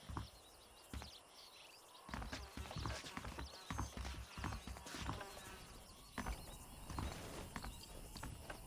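Horses' hooves clip-clop in an irregular stepping rhythm in the Red Dead Redemption video game, several animals moving close by over a quiet outdoor ambience.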